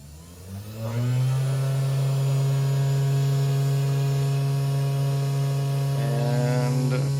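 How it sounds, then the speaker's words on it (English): A CNC machine's motor starts up and settles into a steady, loud hum with a constant pitch, holding evenly throughout with a slight shift near the end. "Start up the motor."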